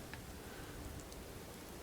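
Steady rain falls in the Fallout 4 video game, a soft continuous hiss with faint ticking drops, quiet and even throughout with no talking.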